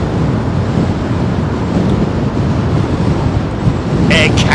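Strong wind buffets the microphone at London Heathrow Airport beside the 27L arrivals path, a loud, continuous rumbling roar that ends with a brief higher-pitched burst of noise.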